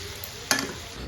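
Coriander leaves stirred and fried in a pan with onion, chili and tomato, one short burst of stirring sizzle over a steady low kitchen hiss.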